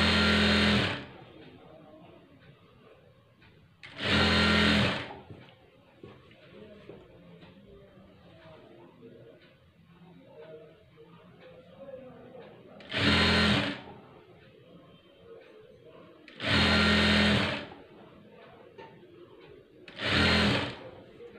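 Sewing machine stitching a blouse neckline, five loud close bursts of rapid mechanical whirring, each a second or so long, separated by quieter pauses filled with faint handling of fabric.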